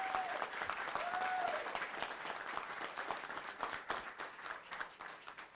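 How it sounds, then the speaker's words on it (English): An audience at a bench press championship applauds the referees with dense, continuous clapping that starts full and gradually loosens into scattered claps, with a faint voice under it at the start. "Please give them a big round of applause"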